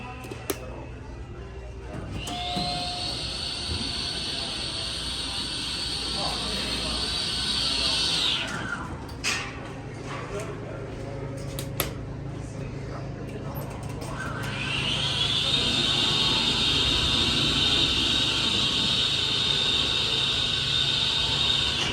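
An Abell hydraulic elevator at a Menards store in Indianapolis hums steadily with a high whine during a ride, the tone dropping out briefly with clunks midway before the motor whine resumes, loud and close.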